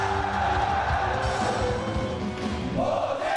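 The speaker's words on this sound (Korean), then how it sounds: "연무관이 터져나갈 듯 찬양을 부르며 부르짖는 함성소리" Soldiers at a military church rally in the Yeonmugwan hall shout and cheer in praise, a dense, loud crowd roar that stays steady throughout with a rising surge near the end.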